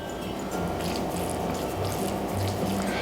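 Cold water pours over cooked sago, a steady splashing, trickling rush heard close up with no talk.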